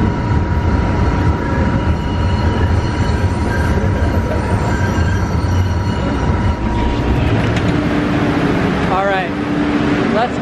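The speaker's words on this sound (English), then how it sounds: "the next orange line train to Forest Hills is now approaching." An MBTA subway train pulls into a station platform with a loud, steady rumble of wheels and motors, turning to high squealing wheel tones as it slows near the end, while a voice talks over it.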